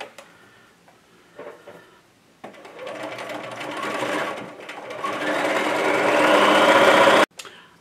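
Sewing machine chain-stitching folded fabric for a Christmas advent calendar, starting with short bursts and building to a loud, steady whirring run of rapid stitching before stopping abruptly; no talking.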